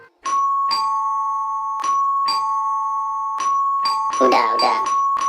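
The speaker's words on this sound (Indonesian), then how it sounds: "Setelah membunyikan bel berkali-kali" A neighbour's house doorbell is rung over and over, giving about six sharp, bright chimes in an uneven rhythm, with a brief voice near the end.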